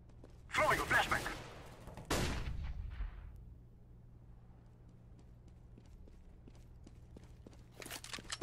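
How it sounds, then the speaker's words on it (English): A flashbang grenade is thrown and detonates in Counter-Strike: Global Offensive: two loud, sharp bursts land in quick succession near the start, then a quiet stretch of faint ticking, with a brief noisy flare at the very end. "Throwing a flashbang"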